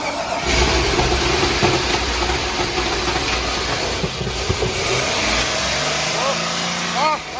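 A Chevrolet Tahoe with a swapped engine cranks and catches, its motor then running with a steady mid-pitched rumble close by and a few brief voices over it.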